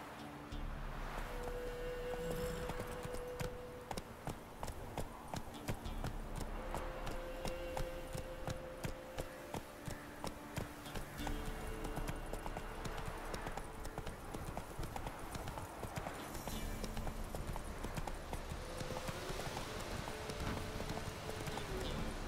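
Roach the horse trots along in The Witcher 3, hooves clip-clopping in a steady, even rhythm the whole way through, moderately close over a soft ambient background.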